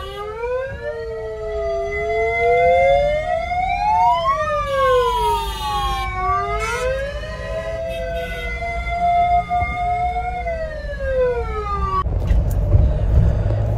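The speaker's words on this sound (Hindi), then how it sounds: "एम्बुलेंस वाले भाई तक आया भाई, कट्ठे मिलकर सायरन मारते हैं" A wailing ambulance siren rises and falls continuously, layered with overlapping siren tones amid steady rumbling traffic in a traffic jam at the Bharat Jodo Yatra, loud and close throughout.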